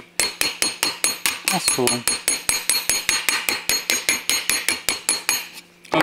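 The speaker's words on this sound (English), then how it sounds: "as you're hammering that, it's flattening it back out" Steady metal hammer blows ring out in a fast, even rhythm as a welded body panel on a Talbot Sunbeam Lotus is beaten flat, close and loud, with a brief spoken remark partway through.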